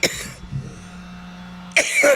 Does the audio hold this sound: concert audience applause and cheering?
no